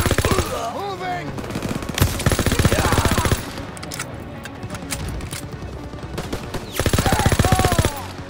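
Rapid bursts from a Waffe 28 submachine gun in Call of Duty: WWII, loud close automatic fire rattling in several long strings with short pauses between, battlefield noise around it.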